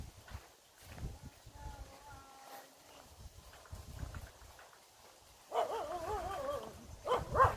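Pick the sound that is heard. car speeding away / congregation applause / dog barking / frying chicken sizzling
dog barking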